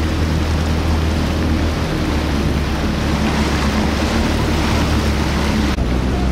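A steady, loud rush of wind and water washes over the microphone, like a boat running over ocean waves off Long Beach, with no voices.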